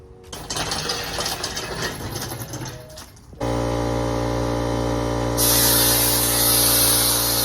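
Compressed air from an air hose blasts at an engine being stripped in a driveway, a harsh steady hiss that cuts in abruptly after some clattering mechanical rattling, then grows brighter and louder near the end.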